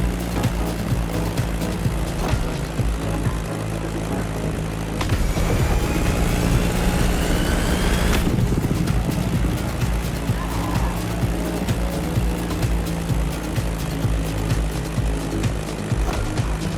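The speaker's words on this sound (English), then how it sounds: "That Beechcraft Stagger Wing is truly a beautiful piece, isn't it? And a great choice for that flight." A Beechcraft Staggerwing propeller biplane drones continuously in the racing game The Crew Motorfest, its engine a steady rumbling buzz with a brief rising swell midway.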